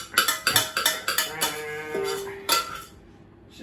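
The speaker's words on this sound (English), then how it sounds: "Sorry about the noise, because the whisk works better in this." A whisk clattering against a big glass bowl of mashed potato, a quick run of sharp ringing clinks followed by a few slower taps, close and loud, with no talk.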